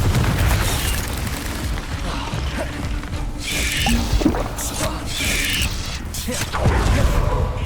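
Confringo fire spell blasts in Hogwarts Legacy, repeated booming bursts and crackling impacts over a rumbling battle bed, with mechanical clatter and whooshes between hits, no voices.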